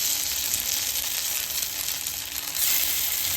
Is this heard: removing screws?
no